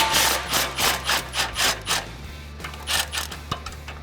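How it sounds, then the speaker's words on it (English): Rhythmic ratcheting scrape of a 13mm deep socket wrench working a clamp on the axle-back muffler of a 2011-2014 Mustang GT, close and dry in repeated short strokes, with a steady low hum beneath. "I have a 13mm deep socket, and we're going to take this clamp off"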